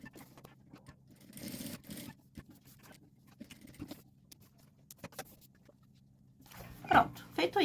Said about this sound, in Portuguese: vamos passar uma costurinha aqui bem em cima desse retângulo que a gente fez